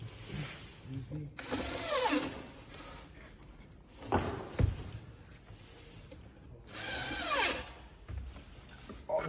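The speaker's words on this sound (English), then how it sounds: "Then we're gonna put 4 screws for each side." Screws are driven into a cabinet drawer box, four to each side, in three short whirring bursts separated by quieter handling noise, fairly soft and close.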